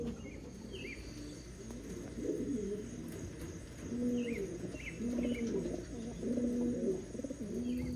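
Young racing pigeons coo softly on a loft landing board, repeated low rolling coos in irregular bursts, with occasional faint chirps and a steady background hum.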